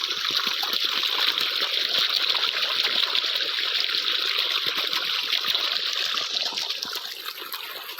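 Irrigation water gushes steadily through a channel in a farm field, a loud, continuous rushing and splashing flow that holds evenly throughout with no voices.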